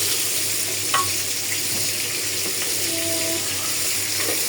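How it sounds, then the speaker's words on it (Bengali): Fish frying in oil in a pan on a home stove gives a steady, close sizzle with soft crackle, unbroken and even throughout. "এদিক দিয়ে আমি মাছ ভাজিটা বসাই দিলাম।"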